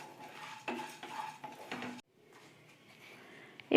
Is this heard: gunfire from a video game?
no